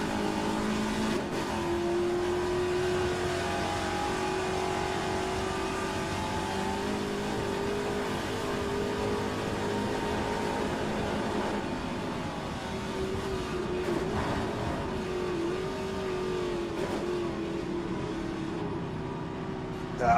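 Classic Trans-Am race cars at Bathurst during a Historic Racing Sports Cars round, engines holding a loud, sustained multi-car roar with one slipstreaming another, a steady drone of overlapping revs close by.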